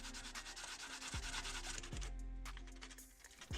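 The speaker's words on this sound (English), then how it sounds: "sanding," Steady abrasive rubbing and scraping of a painted RC car body, close and continuous, with a few low mechanical pitch sweeps beneath the gritty texture.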